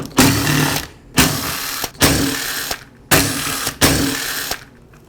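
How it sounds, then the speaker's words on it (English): A starter assembly is pulled off a Ryobi string trimmer engine, giving five sharp, close mechanical scrapes and clicks at regular intervals, each fading quickly. "Now I can remove the starter assembly."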